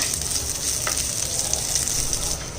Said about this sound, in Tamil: சின்ன வெங்காயத்தில் ஒரு 3 பீஸ் பொடியாக நறுக்கிருக்கேன். லைட்டாக கொஞ்சம் வதக்கி விட்டுக்குருவோம்